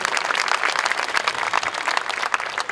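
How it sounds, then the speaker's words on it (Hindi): Enthusiastic applause from a crowd at a Brahma Kumaris meditation inauguration gathering in Karnataka, a steady, dense, loud clapping that continues throughout without pause. "एक बार हमारी जयंती बहन के लिए भी जोरदार तालियां।"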